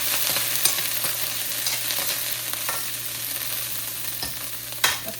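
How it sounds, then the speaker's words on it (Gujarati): Capsicum sizzles and fries in hot oil in a home kitchen while being stirred, a steady close crackle with a few sharper scraping clicks of the spoon against the pan. "તેલ ગરમ થઈ જાય એટલે નાખીશું કેપ્સિકમ. મિક્સ કરી દઈએ."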